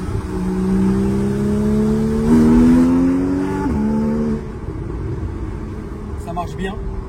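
A Porsche engine revs hard and climbs through the gears, loud and close with rising pitch and a gear change, then settles to a steady rumble while people talk.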